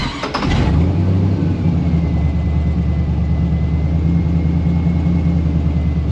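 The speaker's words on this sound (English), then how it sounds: "So it idles high for 4 seconds, then drops down, goes in a closed loop and starts learning." A 1955 Chevy Nomad gasser's engine runs at a steady, loud high idle right after starting, a continuous low rumble that holds throughout.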